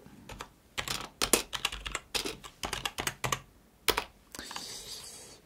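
Close-up typing on a computer keyboard: rapid bursts of clacking keystrokes with short pauses between them.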